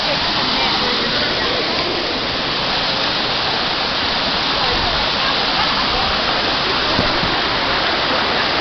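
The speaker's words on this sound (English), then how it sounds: "it's actually 3 waterfalls" A waterfall, the bottom of a chain of three, roars with a loud, dense, unbroken rush of falling water that stays steady from start to finish.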